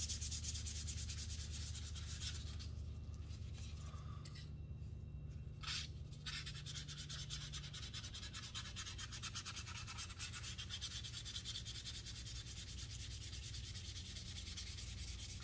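Sandpaper rubs back and forth over wood coated with Danish oil, a continuous dry scratching close to the ear with a brief pause near the middle.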